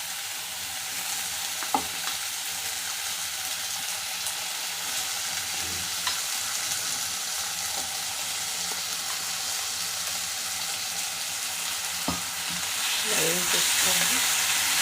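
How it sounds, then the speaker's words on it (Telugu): Prawns for a prawn curry frying in a pan produce a loud, continuous hiss and sizzle close up, broken by occasional scrapes and taps of a stirring spoon, with a brief murmur of voice near the end. "దాంట్లోనే ఇందాక వేయించి పెట్టుకున్న రొయ్యల్ని వేసేసుకోవాలి"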